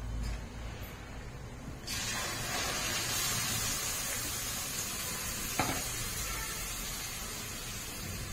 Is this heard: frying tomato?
yes